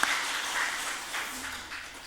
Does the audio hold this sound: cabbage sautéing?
no